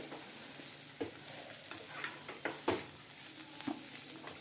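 Cluster beans curry stir-fries gently over low heat in a steel kadai: a quiet sizzle with scattered scrapes and light metallic taps of a spoon against the pan.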